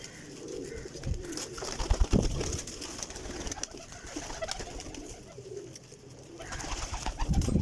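Pigeons cooing in a loft of around a hundred high-flying birds, with repeated low throaty coos over rustling, wing flutters and scattered bird noise throughout, fairly close and steady.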